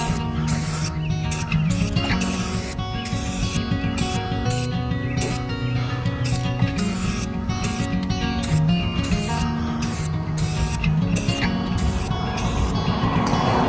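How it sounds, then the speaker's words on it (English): A spray can coats a mailbox in a rhythmic series of short, close hissing bursts with brief pauses between them, heard over steady background music. "I'll move it down and then finish spraying on the rest of this thing"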